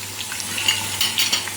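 Food fries in a pan on a home stove, a steady close crackling sizzle with brief spatters and a faint clink of utensils.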